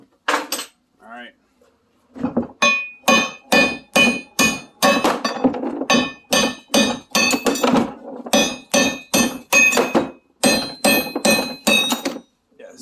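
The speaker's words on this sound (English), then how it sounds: "so we'll just hammer these out." Hammer blows drive wheel studs out of 8.8 axle flanges on a Camaro, close, loud metallic clanks in a steady rhythm of roughly twenty strikes with short pauses, each hit ringing briefly.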